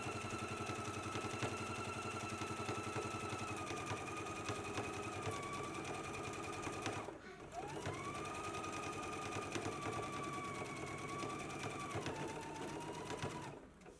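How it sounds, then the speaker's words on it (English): A sewing machine runs steadily, stitching a 5/8 inch seam on a McCall's M8509 garment, its fast mechanical whir humming on and on, pausing briefly once, then resuming and slowing near the end. "you want to go ahead and stitch in a 5/8 of an inch seam allowance"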